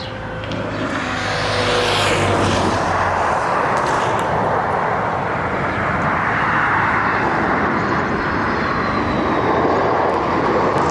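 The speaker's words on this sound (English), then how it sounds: "We have Icelandair coming on one of their newer planes, I think." An Icelandair Boeing 737 MAX arriving from Keflavik roars steadily past on approach to Barcelona airport runway 24R, a broad, loud jet rumble that swells and holds for about ten seconds with no talk.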